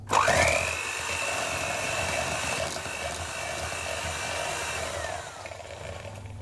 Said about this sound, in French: avec un batteur, par exemple, on va commencer par détendre le beurre.